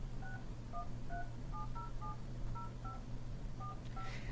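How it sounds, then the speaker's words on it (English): Phone keypad dialing tones as a number is entered, about a dozen short evenly spaced beeps in an irregular tapping rhythm over a steady low hum, clear and close with no talk. "now we can enter the phone number"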